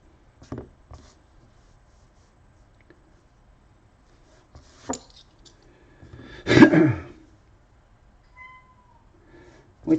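A house cat meows indoors in a mostly quiet room, one clear drawn-out meow near the middle preceded by a few soft clicks and small sounds, close and moderately loud.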